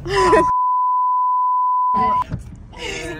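A loud, steady censor beep added in editing runs for under two seconds, completely covering speech. Voices are heard just before and after it.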